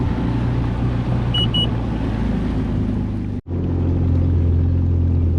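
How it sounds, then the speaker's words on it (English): A 2021 Yamaha VX Cruiser HO personal watercraft idles on the water at no-wake speed, its engine a steady low hum with a brief dropout near the middle and a couple of faint high beeps early on. "this is the VX Cruiser high output 2021 model"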